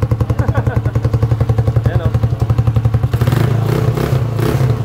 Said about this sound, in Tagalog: ibang klase yung tunog ng tambutso ni kuya